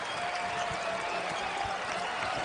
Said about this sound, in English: Here comes the crowd at last